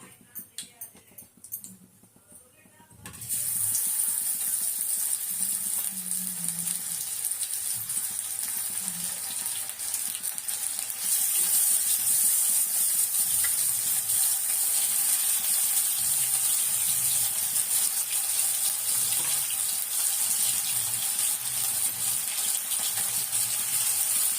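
Spices tempering in hot oil for a pomfret fish curry, a loud steady hiss that bursts in after a few quiet seconds and keeps going, growing slightly brighter midway.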